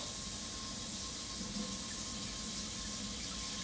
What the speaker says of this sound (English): When you wash your rice, it allows all of the flavor and all of the whatever you're putting in there really stick to it.